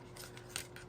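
Small scissors from a Dollar Tree beauty set snip close by in a quiet room, giving a couple of faint, short metallic swishes and clicks.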